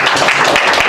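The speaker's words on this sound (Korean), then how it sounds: "우리 하나님께 영광의 박수 올려드리겠습니다" Church congregation applauding together during a Korean Easter service, a dense, steady wash of many hands clapping at once, loud and close, lasting under a second with no speech over it.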